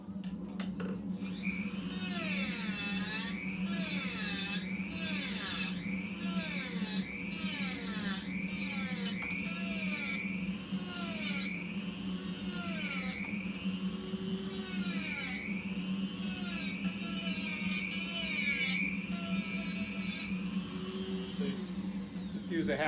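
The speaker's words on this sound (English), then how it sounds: "Use a 1/2-inch sanding drum on a Dremel tool to take it down a little bit." A Dremel tool fitted with a 1/2-inch sanding drum grinds down an antler, its high whine rising and falling in repeated pressing strokes over a steady motor hum, close up, continuing for a long stretch.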